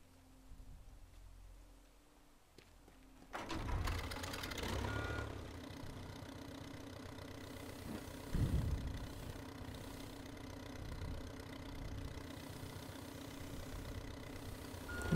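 In the video game Teardown, a telehandler's engine starts up and idles with a steady mid-pitched rumble after a quiet opening, with a brief louder surge midway.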